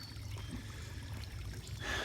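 Water runs from a hose into a spa, making a faint, steady trickling rush with a low hum underneath and no talk.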